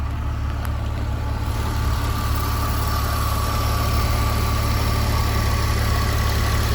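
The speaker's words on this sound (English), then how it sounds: "let's have a quick look in the engine bay whilst it's running." A Porsche 997 911 flat-six idles with the engine bay open, giving a steady, close, even mechanical hum with a constant low throb and fine ticking texture, running alone without voices.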